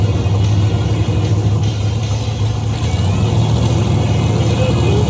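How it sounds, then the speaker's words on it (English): Street race cars idle and rumble steadily at a drag strip event in Hinton, Oklahoma, a dense, continuous engine drone with a strong low hum, loud and close, with no distinct revs. "we got two of the hottest cars of the evening coming up here, going head to head"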